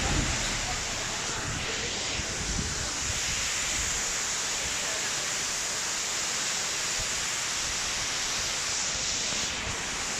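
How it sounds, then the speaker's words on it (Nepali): Nyauli waterfall rushes in a steady, dense roar of falling water that holds at an even level from start to finish, with no other sounds standing out. "यो न्याउली झरना हो हाम्रो नेउली झरना आइपुग्यो साथीहरू"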